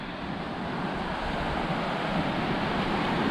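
Sea waves wash continuously onto a sunny beach, a steady broadband roar with no breaks, close and fairly loud, mixed with some wind.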